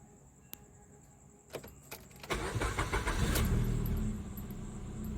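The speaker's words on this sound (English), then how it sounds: "Now we will start our vehicle." A car engine starting in a parked vehicle: a few faint clicks and key sounds, then a short cranking burst that catches into a steady close idle rumble continuing to the end.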